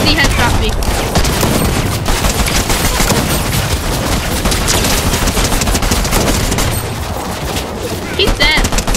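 Dense, continuous gunfire from a first-person shooter game, rapid overlapping automatic bursts and impacts filling the whole stretch loudly and up close, with game noise layered throughout.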